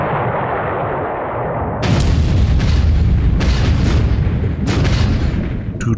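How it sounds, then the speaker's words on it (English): In a naval war video game set in the WWII Pacific, torpedoes strike a transport ship. The result is dense, continuous rumbling explosion noise, loud and close, with several heavier booms layered over a sustained roar and no talk. "Two torpedoes into a transport."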